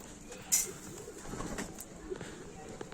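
Adana pigeons cooing softly in low, murmuring tones amid faint background noise, with a brief sharp chirp near the start.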